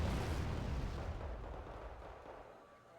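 Weapons fire and explosions in a war strategy video game form a dense, loud, rumbling barrage that gradually fades over about three seconds, with no talking.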